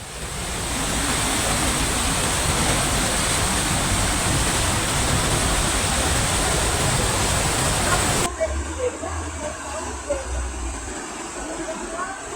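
Floodwater from an overflowing river surges past a bend before a bridge in Jember, Indonesia, a loud, steady broadband rush that holds for about eight seconds, then drops to a lower, rougher churn.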